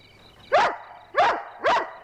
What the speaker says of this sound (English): Someday I'm gonna kill that hound.